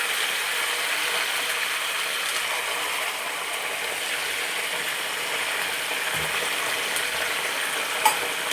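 Curry leaves and chillies fry in hot oil on a high flame for temple-style pulihora, giving a steady, even sizzle and hiss with a faint clink near the end.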